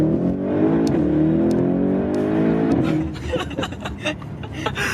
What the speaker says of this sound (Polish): Przeszliśmy sobie na ustawienia sportowe, posłuchamy sobie trochę wydechu.